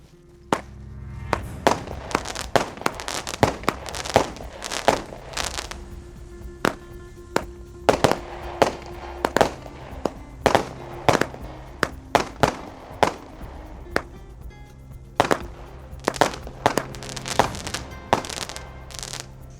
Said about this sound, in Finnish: toi paukkuu mukavasti